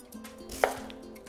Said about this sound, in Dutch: Ik ga nu de zoete aardappel in reepjes snijden.